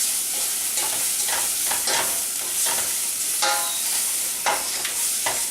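Ground cloves, allspice and other spices are stirred into a ketchup mixture in a pan, with steady scraping strokes over a constant sizzle, close and fairly loud, and no talking.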